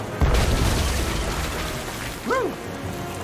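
A cannon firing in the pirate adventure game Tales of Monkey Island: a sudden heavy boom that rolls into a sustained rumble, followed by a brief whistling squeal, fairly close and without speech.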